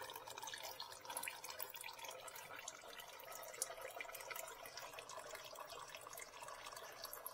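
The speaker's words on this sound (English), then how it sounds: "to get the oil completely drained down to where we need it" Motor oil drains steadily from a 2021 Dodge Durango during an oil change, a continuous close trickle and patter of liquid with no pauses and no talk.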